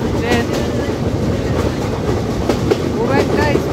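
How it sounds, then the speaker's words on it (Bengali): Benapole Express passenger train rolling over the rails at modest speed, a loud steady rumble with rhythmic clickety-clack of wheels over joints and occasional faint metallic squeals, heard from on board. "আর এটা হচ্ছে বেনাপোল এক্সপ্রেস ট্রেন"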